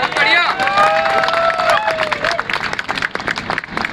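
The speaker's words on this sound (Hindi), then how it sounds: "अपने स्टेट के लिए एक बार आप तालियां बजाइए।" An event audience bursts into applause with cheers and whistles, the crowd noise loud at first and then settling into scattered clapping while a speaker talks.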